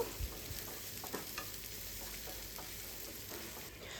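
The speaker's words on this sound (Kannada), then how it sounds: "ಅದನ್ನು ಹಾಕಿ ನಾವಿಲ್ಲಿ ಚೆನ್ನಾಗಿ ಇದನ್ನು ಫ್ರೈ ಮಾಡ್ಕೋಬೇಕು" Onions, green chillies and curry leaves fry in oil, producing a soft, even sizzle with intermittent stirring scrapes and no voices.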